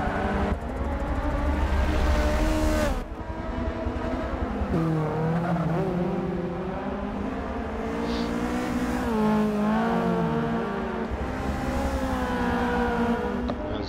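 Touring race cars roar through a racing video game round at Hockenheim, several engines revving and shifting in a dense, continuous pack with brief tire squeals, loud and sustained throughout.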